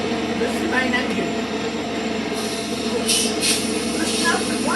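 A diesel train's main engine rumbles steadily nearby, with a constant low drone and occasional brief hissing bursts over it.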